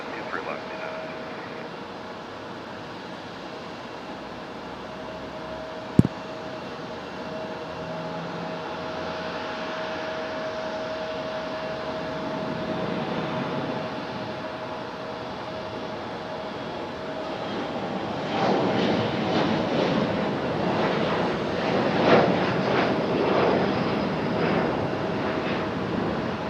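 Airplane taking off from runway 23 left at Raleigh-Durham airport on a stormy day, a distant steady hum that swells into a broad roar through the final third.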